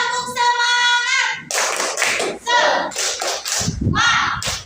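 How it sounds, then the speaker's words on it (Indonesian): A classroom of children performs the 'tepuk semangat' clapping chant, rhythmic bursts of hand claps mixed with chanted kid voices, loud and close, after a brief sung or spoken lead-in. "Ayo, tepuk semangat."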